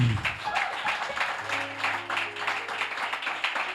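A church congregation at a seminar applauds and cheers for Jesus in a steady, fairly distant wash of clapping and voices, with a low organ-like tone beneath.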